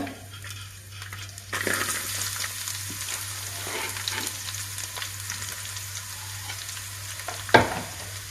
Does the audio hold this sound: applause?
no